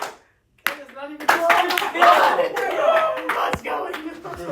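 Students clapping together in a classroom: a silent gap, then a burst of ragged, uneven claps lasting several seconds, loud and close, with voices calling out among them.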